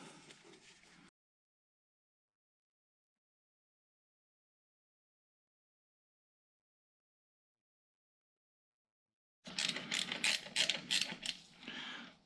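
A ratchet with a regular 5/8 socket works on the spark plugs of a 987 Porsche Cayman: brief bursts of close, rapid clicking start and end the stretch, separated by a long silence.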